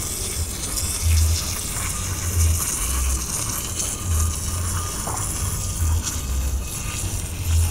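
Water poured onto aglonema potting media, with steady trickling and dripping through the soil and a low rhythmic thumping underneath, fairly close and continuous.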